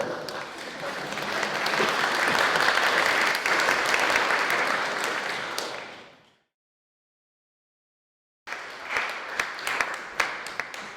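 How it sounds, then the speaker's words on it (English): Audience in Hobart Town Hall applauding after a film screening, a dense sustained roar of clapping that fades to silence, then a second round of sharper, sparser claps. "Clap."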